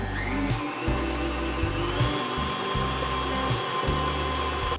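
An electric stand mixer whirs continuously at high speed, beating Swiss meringue buttercream with powdered sugar, its steady motor drone pulsing slightly as the beater turns, with no talking.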